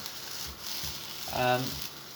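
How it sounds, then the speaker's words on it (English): Steady broadband sizzle of peppers and tempeh frying in a pan, close and fairly quiet, with a brief harmonic squeak or voice-like tone midway. "I'm just starting off by frying the peppers and the tempeh"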